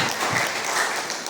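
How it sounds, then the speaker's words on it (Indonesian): A church congregation applauds to praise God, a continuous, fairly loud wash of clapping that fills the whole short moment with no speech over it. "Kita beri tepuk tangan bagi Tuhan"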